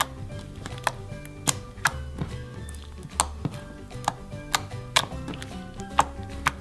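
Glossy, jiggly slime being squeezed and poked gives sharp, close clicks and pops at an irregular, roughly half-second rhythm over soft background tones.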